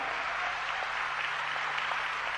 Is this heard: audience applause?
yes